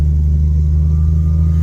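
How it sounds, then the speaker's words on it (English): A Jeep YJ idles with a steady low rumbling engine and exhaust drone, loud and close, with no voices. "I can definitely hear a tingly exhaust."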